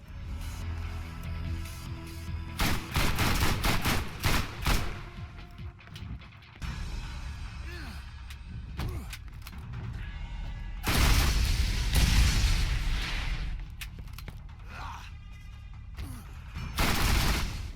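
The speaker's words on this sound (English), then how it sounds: "In order to activate this Easter egg, you need to shoot the barrels in this order." Gunfire in Borderlands Remastered as barrels are shot, with repeated sharp shots and booming blasts in several bursts separated by quieter game ambience.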